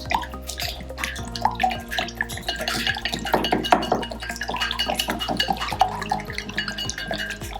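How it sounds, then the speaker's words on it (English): Egg seasoned with salt and black pepper is whisked in a bowl, making rapid, close, rhythmic clinking and sloshing taps that continue steadily throughout. "and then I'm going to put some black pepper, and then I'm going to whisk it"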